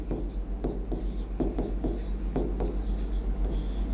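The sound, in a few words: writing on a board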